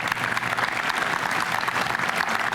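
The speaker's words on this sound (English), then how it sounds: "we owe them a great round of applause, Janie and Gary." An outdoor audience at a Veterans Day ceremony at the H.E.R.O.E.S. monument in Freedom Park, San Dimas, claps in a dense, steady round of applause, heard alone and without break.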